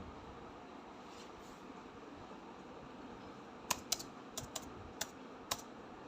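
Typing a one-time passcode on a computer keyboard, a short run of about six crisp key taps clustered near the end over a steady low background hum.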